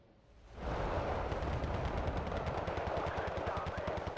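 Rapid, loud burst of artillery mortar fire in a video game, a dense rattling barrage of repeated blasts that starts after a brief quiet moment and continues steadily without talk.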